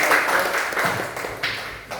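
A classroom of students claps for a student group, a short dense burst of applause close by that tapers off after about two seconds.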